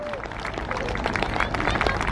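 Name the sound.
crowd applauding the synchro pair at RIAT air show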